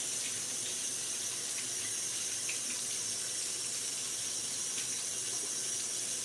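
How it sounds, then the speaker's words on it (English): Water streams steadily from a kitchen sink tap as hands are rinsed, a constant close hiss and splash filling the whole stretch without any talk. "Rinse my hands off"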